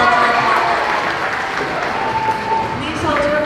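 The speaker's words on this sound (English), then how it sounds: "please hold your applause to the end" A crowd at a 5th grade moving-up school ceremony applauds with dense, steady clapping that holds an even loudness for the whole stretch. Murmured voices blend into it.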